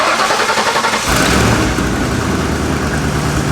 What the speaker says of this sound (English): So Blake's gonna do the honors, or the first startup of this thing.